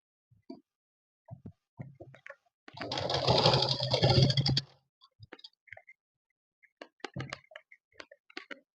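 A sewing machine stitches the shoulder seam of a kaftan dress in one rapid two-second run, set among scattered clicks and light handling knocks.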